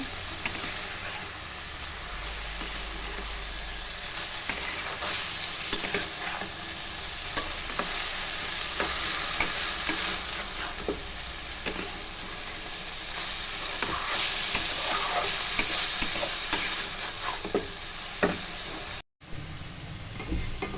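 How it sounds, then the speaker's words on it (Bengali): Mung dal stirs and fries in a pan at home, a continuous close sizzle with scraping spoon strokes and small clinks scattered throughout, briefly cutting out near the end. "এবারে আমি মুগ ডালগুলো দিয়ে দেবো আবার একটু নাড়াচাড়া করব"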